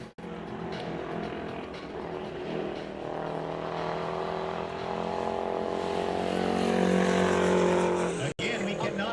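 A racing truck laps an oval circuit in a season-opening qualifying session at Mission Valley Super Oval, its engine droning steadily and rising slightly in pitch as it passes, loud and continuous until a sudden cut near the end.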